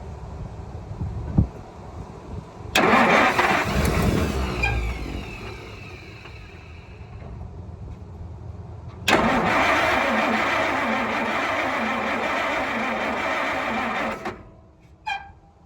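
A 1947 International KB-7 truck engine cranks loud and close in two long bursts of rapid, grinding starter churning, briefly catching and sputtering in between, with no talking.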